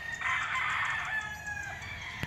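A Red Kelso bullstag rooster at a gamefarm gives a single short, fairly loud crow that trails off, with faint farmyard background and no talk.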